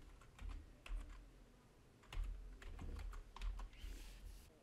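Clicks of a computer keyboard as someone types, a loose burst of keystrokes with short pauses in between, up close and with no talking.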